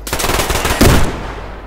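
Rapid automatic gunfire in the online shooter game Survarium, a loud dense burst of close shots, with no talking.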